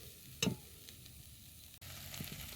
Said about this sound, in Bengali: মশলাতে তেল ছেড়ে দিয়েছে, কত সুন্দর মশলাটা লাগছে। এরকম মশলাটা আগে কষে নিতে হবে।